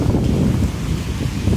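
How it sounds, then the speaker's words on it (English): Strong gusts buffet the microphone on a night walk through the streets of Paramaribo, Suriname, a loud, rumbling low roar that stays constant for the whole moment with no speech. "that's a lot of wind"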